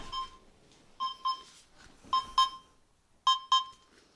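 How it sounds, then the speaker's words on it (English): A baby monitor sounds short, sharp electronic beeps in quick pairs, repeating at intervals against a quiet room. "Baby monitor beeping away,"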